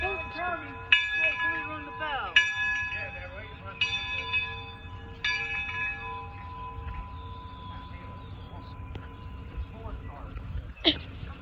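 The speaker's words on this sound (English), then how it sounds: "that's why they rang the bell?" A bell rings out in several separate, evenly spaced strikes at a plantation house, each one lingering before the next, with ambient crowd noise underneath and one last strike near the end.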